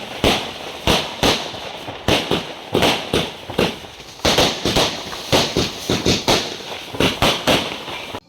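Firecrackers burst at night during New Year's celebrations in Mysore, a rapid irregular string of sharp loud bangs, some close together, each with a brief echoing tail.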